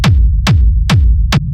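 Four pounding techno kicks with a deep rumble tail running through a saturated drum bus, each hit a sharp punchy transient falling into a heavy sub boom, loud and regular.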